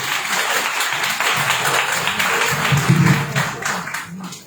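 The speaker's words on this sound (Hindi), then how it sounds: "जोरदार तालियां तुम करते हैं।" Applause from an audience at a live event in India, a broad sustained wash of clapping that swells and fades over several seconds with no talk over it.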